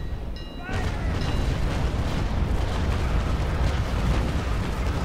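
Ship cannons fire in Naval Action, a pirate Bellona in a four-versus-four battle, with a sharp onset followed by a heavy, sustained rumbling roar of broadside blasts, while someone talks over it.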